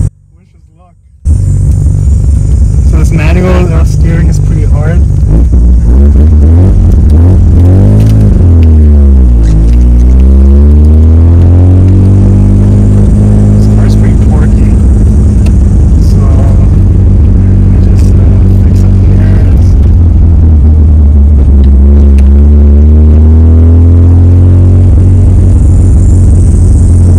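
Modified FB Mazda RX7 being driven, a loud, close rotary engine droning and rising and falling through gears and revs inside the cabin for the whole stretch after a quiet start.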